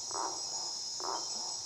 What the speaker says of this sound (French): ça, ce sont plutôt des criquets, quoi